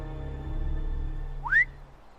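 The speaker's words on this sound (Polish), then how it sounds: "Od kiedy tak się gwizda?" A rising whistle in the Game of Thrones video game, a single short upward-sweeping tone that enters late over a low ambient hum and soon fades, with no voices.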